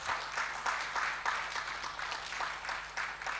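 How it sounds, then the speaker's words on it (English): An audience at an investiture ceremony for a chairman claps in a steady, moderate wash of applause with rhythmic swells, no voices standing out. "Please clap for him if you want to clap."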